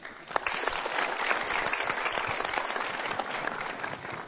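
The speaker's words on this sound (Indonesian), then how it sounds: "Kita berikan tepuk tangan." Studio audience applauding as a guest is invited up onto the stage of a motivational talk show, a dense steady wash of clapping that stays loud and even for a few seconds without pause.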